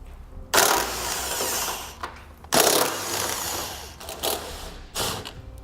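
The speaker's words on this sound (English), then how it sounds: "We're going to be removing 2 13mm bolts on top on each side, as well as 1 on the bottom." A power tool backs 13mm bolts off the rear bumper beam of a 2014 Volvo S60, loud buzzing whirring bursts close by, two long runs followed by shorter ones with brief gaps between them.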